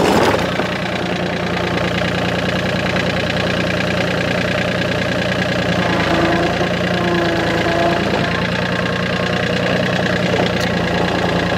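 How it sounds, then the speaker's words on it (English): A TYM tractor engine runs at a steady low idle-like drone with a rough knocking texture while the machine gently reverses to straighten a bar, loud and close throughout without talk. "now I'm just gonna gently reverse back and see if I can straighten out that bar."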